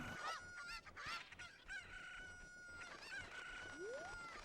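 Chicken clucking and crowing in the video game Ocarina of Time, several sharp, fairly loud bursts of fowl calls repeating over steady game music and effects.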